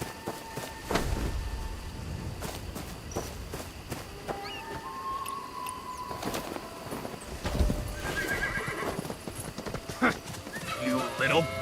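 Horse hooves clop on the ground with occasional whinnies, mixed with game sound effects and a person talking over the action, in the video game Where Winds Meet.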